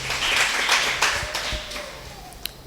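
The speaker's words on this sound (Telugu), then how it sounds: "చప్పట్లు కొడతారా?" A congregation at an Easter resurrection worship service claps in a loose, moderate burst of applause that thins out and fades after a couple of seconds.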